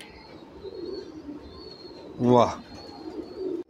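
A fancy pigeon in a breeder's loft lets out one short, loud throaty coo, standing out over a quiet background, while a man briefly exclaims nearby.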